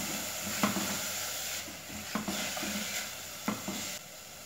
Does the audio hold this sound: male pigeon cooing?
no